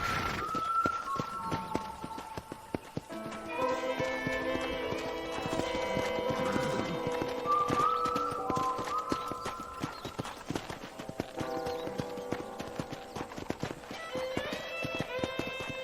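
Horse hooves clip-clop steadily in Red Dead Redemption as a rider moves along at a walking pace, a rhythmic run of hoof taps heard under game music and ambient sound without any talking.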